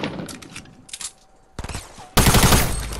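Gunfire in a video game: a sharp burst of shots partway through, followed by a loud sustained barrage of rapid shots filling the end of the clip.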